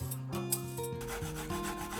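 Burdock root is peeled, giving close, rhythmic rasping scrapes in quick repeated strokes, with a faint background hum and no voices.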